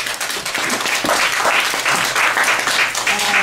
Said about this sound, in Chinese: 我们掌声欢迎谢贤大哥。